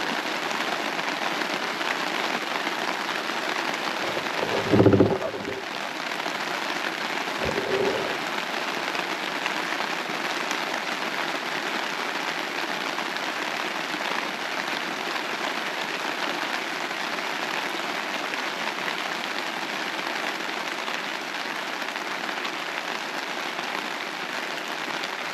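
Steady rain patters on surfaces at an Australian bush campsite, a continuous even hiss throughout, with a couple of brief low thumps early on and no voices.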